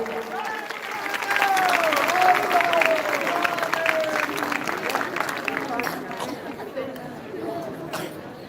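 Festival crowd at the Ishar Gaura Mahotsav in Dhansir, Bilaighar, clapping and chattering steadily throughout, a dense wash of many hands and voices at moderate distance.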